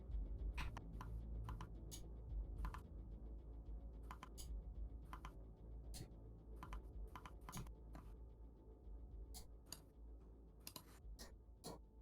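Quiet, close computer keyboard clicking in short irregular bursts of sharp taps, with pauses between flurries, over a low steady background hum.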